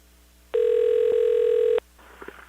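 A telephone call ringing before it is answered: a single steady electronic ring tone about a second long, loud and clear over a quiet line, followed by faint line noise.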